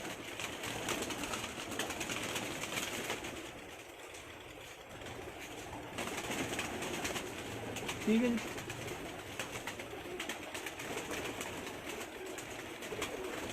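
Several racing pigeons belonging to a pigeon fancier cooing softly amid outdoor background noise, with someone talking over them and a brief clearer coo near the middle.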